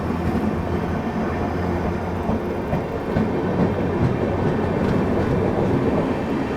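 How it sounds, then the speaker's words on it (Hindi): The Vaishali Express pulls out of an Indian railway station with a continuous loud rumble and rolling wheel clatter, steady and close throughout. "चलिए, अपनी वैशाली एक्सप्रेस निकल चुकी है।"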